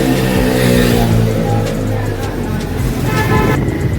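A faulty parked car's engine runs with a loud, steady rumble and rattle close by, with a brief horn-like toot and voices talking over it.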